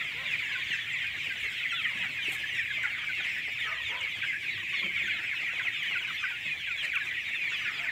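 Desi chickens and a rooster on a farm cluck in a dense, continuous flock chorus, fairly close and steady throughout with no talk.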